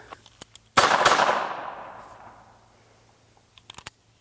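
A Walther PPK pistol fires a couple of sharp shots in quick succession. The loud cracks ring out into a long decaying tail, followed by a few faint clicks near the end.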